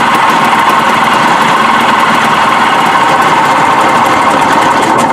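A Sea-Doo 587 XP two-stroke watercraft engine, run with a little gas poured into the carburetor, idles loudly and steadily on both cylinders with a high buzzing, rapid-firing drone up close.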